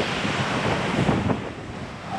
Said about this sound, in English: Whoa! That's a big wave!